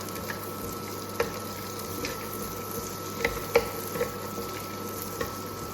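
Cashew nuts roasting in butter in a pan make a soft, steady sizzle with light stirring scrapes and a few brief clicks, close by and fairly quiet, with no talking.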